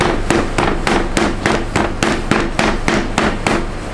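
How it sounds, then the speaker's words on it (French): A rolling pin beats apple tart pie dough on a floured worktop, giving a steady series of sharp, loud thuds at roughly three per second with no talk. "Et on va pouvoir frapper la pâte."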